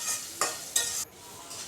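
Onion frying in oil with turmeric and salt for chicken dum biryani, a soft close sizzle cut by a few quick scraping stirs of a spatula.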